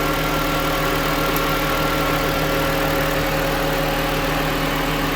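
A 2007 Honda Fit engine idles steadily after a thermostat replacement, giving a constant low hum with a faint even vibration that stays unchanged throughout and is heard up close with no talking.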